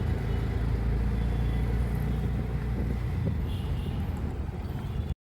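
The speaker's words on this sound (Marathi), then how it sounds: "चला निघाली एकदाची रिक्षा" A shared auto rickshaw pulls away and keeps driving, its engine rumble and road noise loud and continuous with wind buffeting the microphone, cutting off abruptly at the end.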